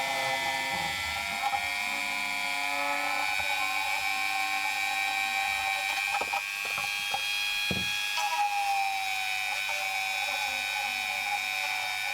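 A Dremel rotary tool drills a large hole in the nose section of a 1/48 scale Revell Phantom FGR.2 plastic model kit, giving a steady high-pitched whine that runs throughout, with brief bumps as the bit bites.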